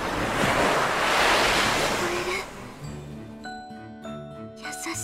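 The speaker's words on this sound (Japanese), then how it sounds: "耳に当てると波の音が聞こえる。" Ocean waves in a video game wash in with a broad roaring surge that fades out, giving way to soft game music tones near the end.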